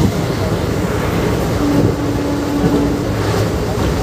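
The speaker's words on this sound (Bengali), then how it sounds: "ব্যান্ডেল জংশন থেকে ছেড়ে আমাদের এই ট্রেন রওনা দিয়েছে তার পরের গন্তব্য বর্ধমানের উদ্দেশ্যে" Maa Tara Express rumbling along the rails after departing Bandel Junction toward Bardhaman, a steady loud low-pitched running noise with a faint tonal hum heard from inside the moving train.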